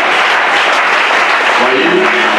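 Congregation applauding during a church service, dense loud clapping filling the whole moment, with a voice briefly heard over it near the end.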